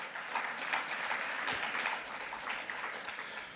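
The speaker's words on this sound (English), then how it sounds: "A round of applause for Ms." An audience at a public session on inequality claps for a speaker, dense sustained applause from many hands continuing throughout at even strength.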